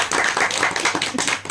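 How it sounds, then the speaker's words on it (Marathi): A small group claps in quick, uneven bursts at a haldi ceremony for a groom, close and fairly loud, for about a second and a half. "टाळ्या वाजा."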